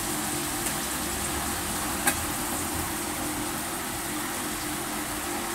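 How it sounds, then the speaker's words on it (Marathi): A steady, dense sizzle of spice tempering frying in hot oil in a pan for a soybean dish, loud and continuous with a couple of faint clicks, no voices. "आता त्याला फोडणी टाकते."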